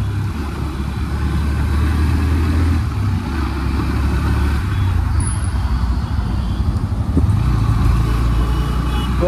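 A Bajaj Pulsar NS125 motorcycle on the move gives a loud, steady low engine drone with road and wind rumble, continuous and close for the whole stretch.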